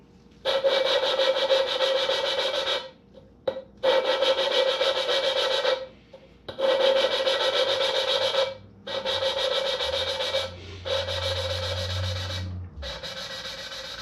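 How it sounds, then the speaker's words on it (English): Close, gritty scraping of a big-block engine valve being hand-lapped with grinding compound, in steady bursts of about two seconds separated by brief pauses. "you can hear the tone change with the grinding compound as it goes finer"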